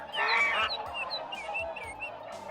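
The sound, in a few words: swans honking, radio play sound effect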